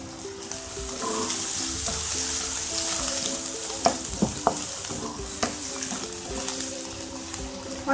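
Chopped onions fry in a pan over a medium gas flame, a steady close sizzle running throughout with a few sharp stirring clicks and scrapes near the middle and end.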